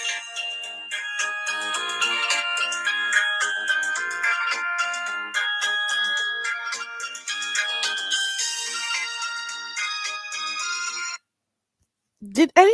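A Nokia ringtone plays as a bright, steady electronic melody of quick repeated notes for about eleven seconds, then stops abruptly before a brief burst of other sound at the end.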